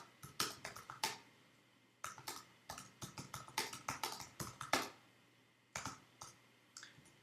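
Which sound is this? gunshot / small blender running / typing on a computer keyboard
typing on a computer keyboard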